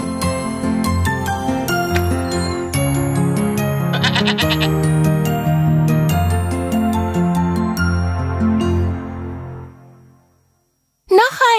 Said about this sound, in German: Die Ziege.